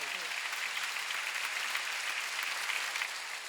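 A church congregation claps together during a Sunday worship service, a dense, even wash of applause that holds steady for a few seconds without pause.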